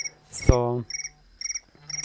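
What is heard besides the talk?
phone ringtone ringing, cricket-like chirping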